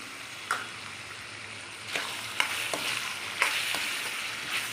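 Vegetables frying for vermicelli upma in a pan, a soft continuous sizzle broken by several spoon scrapes and clinks as they are stirred, close and fairly quiet.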